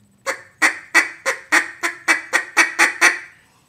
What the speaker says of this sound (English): just a couple of just small single clucks